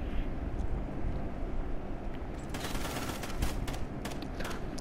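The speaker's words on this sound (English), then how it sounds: "Who puts rapid fire and a silencer onto CBJ?" Rapid-fire bursts from a suppressed CBJ submachine gun in a shooter game, quick muffled shots clustered in the second half over a steady background rumble.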